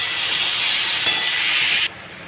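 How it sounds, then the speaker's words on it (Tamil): Four chopped tomatoes sautéing in a pan for a Tamil chutney made without onion, garlic or coconut, a loud steady close hiss and sizzle that cuts off sharply near the end. "இப்போ நான் ஒரு 4 தக்காளி இதில் கட் பண்ணி சேர்த்துக்கிறேன். தக்காளி நல்லா மேஷ் ஆகிற வச்சு அதை நல்லா வதக்கணும்."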